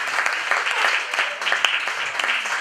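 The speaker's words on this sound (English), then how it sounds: "can we have a round of applause for the two leaders" Short burst of applause from a youth camp audience, lively uneven clapping with a few sharper claps and faint voices mixed in.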